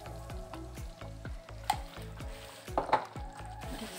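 Paneer sabzi sizzles and fries steadily in a pan while being stirred after a pinch of garam masala is added, with rhythmic scraping strokes and a few sharper clinks over the constant sizzle, close up and with no talking.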